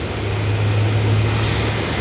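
An Air New Zealand airliner turning on the ground at Auckland Airport, a loud steady jet engine roar with a constant low hum, heard from a distance and continuous throughout.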